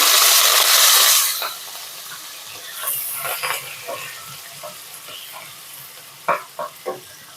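Sliced onion, green chilli and curry leaves hit hot oil with tempering seeds, bursting into a loud hiss that quickly settles into softer sizzling crackles and occasional stirring clicks up close.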